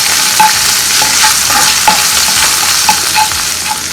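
Crushed ginger and garlic sauté in hot oil for a Kerala prawns roast, giving a loud, close, continuous sizzle punctuated by regular scraping and tapping stirs of a spatula.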